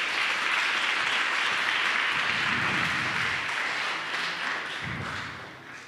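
An audience at an award ceremony for a playwriting prize in Turin gives steady, dense applause that starts loud and fades gradually toward the end, with no talk over it.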